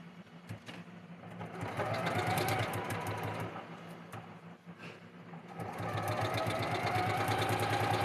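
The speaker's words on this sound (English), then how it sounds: "Now I'm going to sew this." A sewing machine stitches fabric for a sew-along quilting project, running in a steady close mechanical whir that dips briefly near the middle before resuming.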